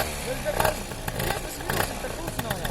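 A freshly assembled motor on its first run revs at full throttle, rising and falling in loud bursts close by while people talk over it.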